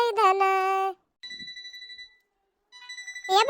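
A phone ringtone plays in short bursts, a tuneful electronic melody with pulsing tones separated by brief silences.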